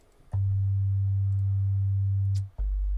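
A pure sine tone from a freshly initialized synthesizer oscillator hums as a steady, loud low note, holds unbroken for about two seconds, cuts briefly, then resumes.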